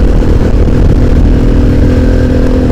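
Modified Bajaj Pulsar 220F motorcycle accelerating on a hill road, its engine a steady, loud, close drone throughout with no speech.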